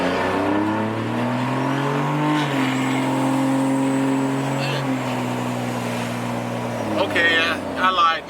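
A diesel truck fitted with an 8-inch exhaust tip revs loudly and close by, its deep droning note swelling and easing in long steady pulls, with a few rougher bursts toward the end.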